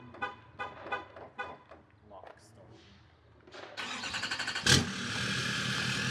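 A Duramax L5P single-cab work truck's diesel engine remote-starting: cranking catches with a loud burst near the middle, then settles into a steady rumbling idle, after earlier talk and clicks.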